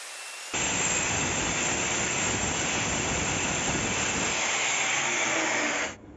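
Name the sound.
electric cutting disc test-cutting porcelain tile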